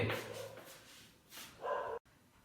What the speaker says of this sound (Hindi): कुत्तों को चुप करा दे